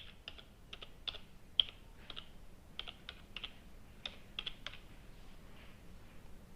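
A website address is typed on an ASUS laptop keyboard: a quick, uneven run of light, close key clicks with short pauses, with no voice over them.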